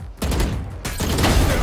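A dense burst of rapid video game gunfire crackles without pause, loud and close, layered with sharp shots in continuous volleys.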